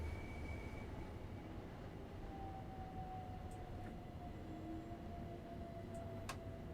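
Simulated commuter train pulling into East Croydon station on the London to Brighton line in Train Sim World 4, a steady rolling rumble with a long descending whine and brief high squeals near the end, no talking.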